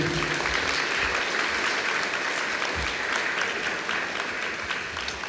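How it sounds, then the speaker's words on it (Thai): A Thai lecture audience claps steadily for a speaker, a thick, even wash of many hands held at full strength throughout, thinning only slightly at the close. "ขอเสียงปรบมืออีกครั้งให้กับคุณชัยตวัตุลาทนค่ะ"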